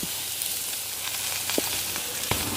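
Onions, green chili, garlic and spices fry in hot oil for a Jaffna-style brinjal kadala curry, giving a steady close sizzle with small pops and crackles and no talking.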